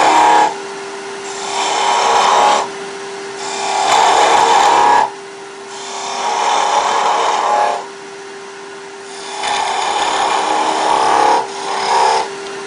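A skew chisel cuts V grooves into wood turning on a lathe, heard as loud, close bursts of harsh scraping over a constant motor whine, four or five cuts separated by short pauses.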